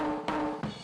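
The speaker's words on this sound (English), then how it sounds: "Then we got a snare drum top here that sounds like this." A compressed snare drum, recorded on the top mic and overdriven on the way in, rings out with a dense, sustained ringing tone; two hits can be picked out inside the short wash.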